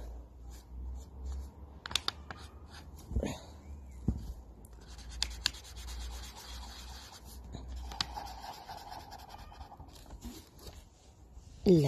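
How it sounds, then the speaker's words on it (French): A pen scratches across paper in short strokes and scribbles, fairly close and quiet, with pauses between marks while a voice speaks over parts of it. "Je dessine les yeux."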